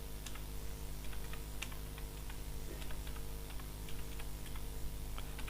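Steady, rapid keystrokes on a computer keyboard while numbers are entered into an Excel spreadsheet, light clicks close up and continuous over a low background hum, no talking.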